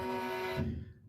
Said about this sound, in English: you get that kind of crunchy, screechy sound like this